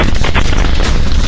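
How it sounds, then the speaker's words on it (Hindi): Russian army artillery cannon fire, a loud, dense booming roar that fills the whole stretch with heavy blast energy and no pauses. "रूसी सेना की तोप से निकला एक आग का गोला यूक्रेन पर कहर बनकर टूट रहा है।"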